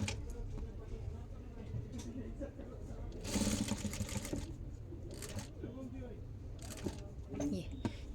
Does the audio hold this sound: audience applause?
no